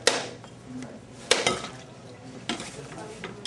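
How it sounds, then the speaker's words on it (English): A whole coconut struck by hand in the center to crack it open around its equator, giving four sharp, close knocks spaced about a second apart over a quiet room. "You just smack it right in the center."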